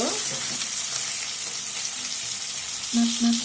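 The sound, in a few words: fish frying in oil, turned over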